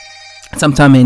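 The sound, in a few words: telephone ringing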